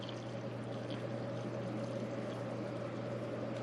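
Steady liquid pour of coffee from the glass carafe of a Mr. Coffee 12-cup red programmable coffee maker, a continuous close, fairly quiet rushing trickle with a low constant hum beneath and no voices.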